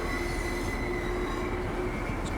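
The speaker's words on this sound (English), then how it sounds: "Another train coming in there." A train on the East Coastway route in Train Sim World 6 rolls past with a steady, dense rumble and faint wheel squeal, continuous and fairly close, with no talking.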